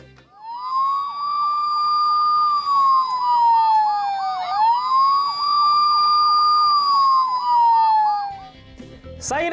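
A toy police siren from a Mini Force Mega Fire Cop toy wails loudly, cycling up and down twice with a short break in the middle, then cuts off, followed by a few clicks.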